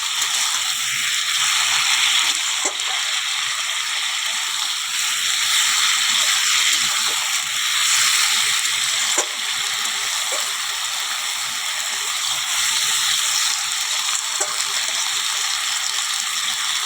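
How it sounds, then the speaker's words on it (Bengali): Potato, eggplant and onion curry cooks with a fish head in a pan, giving a steady, loud, hissing sizzle that continues without pause, with a few faint clicks. "পেঁয়াটা আলু বেগুনের চচ্চড়িটা বসিয়ে দিয়েছি বন্ধুরা মাছের মাথা দিয়ে"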